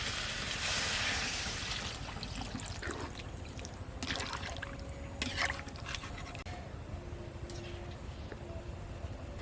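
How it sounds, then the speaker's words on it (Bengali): Water being poured into a pan of kohlrabi and potatoes cooked down with spices, a splashing pour at the start fading into soft bubbling and scattered clinks of utensils. "কপি আলু মশলার সাথে ভালো করে কষিয়ে নিয়েছি, এবার জল দিয়ে দিচ্ছি।"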